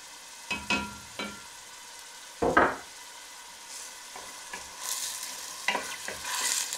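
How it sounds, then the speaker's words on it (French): Meat browning with onions in a soup pot for harira, with scattered stirring scrapes and clatters and one louder burst of sizzle, the frying hiss faint between them and no voices. "elle fait revenir la viande avec les oignons"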